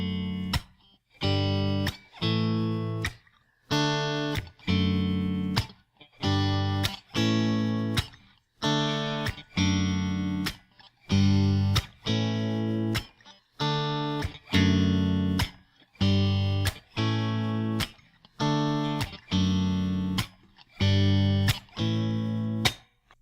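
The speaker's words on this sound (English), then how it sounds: "add a percussive mute on beats 2 and 4" Strummed acoustic guitar chords played in a steady pattern, with percussive muted slaps landing on beats 2 and 4, clear and close and continuing throughout.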